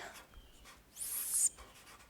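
Math being written by hand on a surface: a single brief scratchy stroke, quiet and close, with a stretch of near silence around it.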